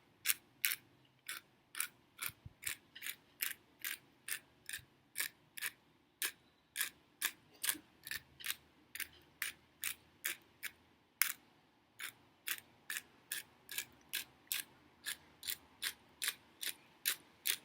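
Fresh black pepper ground in a pepper mill for turkey thighs, a long run of quick, evenly spaced ratcheting clicks, crisp and close, continuing without pause and with no voices.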